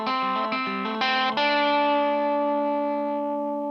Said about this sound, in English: I'm on the reverb machine.